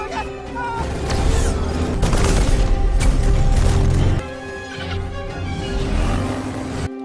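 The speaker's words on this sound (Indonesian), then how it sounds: "Dan tiba-tiba segerombolan geng motor datang dan menembaki mereka." Gunfire from a motorcycle gang attacking in a video game, heard as dense, loud bursts and booms over a steady musical score that ease off after about four seconds.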